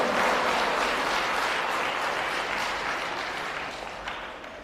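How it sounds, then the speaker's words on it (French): Sustained applause from a church audience during a prophet's gathering in Zimbabwe, a dense steady wash of many hands clapping that fades slightly toward the end, with no talking over it. "Je vous remercie, mais n'applaudissez plus."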